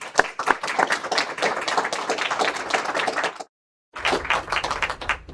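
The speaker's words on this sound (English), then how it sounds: "So give him a round of applause." Audience clapping during a National Reconciliation Week event to welcome a guest from Tribal Experiences; brisk, fairly close applause with a sharp break of silence before it resumes.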